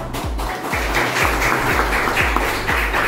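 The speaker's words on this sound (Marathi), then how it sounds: "टाळ्यांचा कडकडाट चालू राहिला पाहिजे" A crowd at a cricket league player auction breaks into dense, continuous applause, loud and steady for about three seconds, with rapid clapping and no speech over it.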